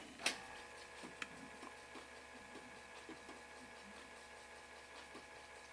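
The disk drive of a 1987 Zenith SupersPort 8088 laptop boots with faint mechanical ticking and seeking, a sharp click near the start and scattered quieter ticks over a steady low hum.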